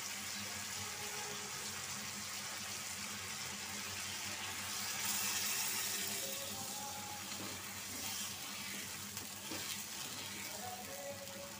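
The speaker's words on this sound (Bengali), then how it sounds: "এখন আমি অল্প পানি দিয়ে দিব।" A small amount of water poured into a sizzling dried fish (shutki) curry in a pan, giving a steady watery hiss and bubbling that swells briefly midway, with no voices.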